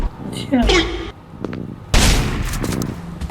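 Gunfire in the Roblox horror game Terminal 13: Not Human, loud sharp shots breaking out amid game noise, with excited talking around them.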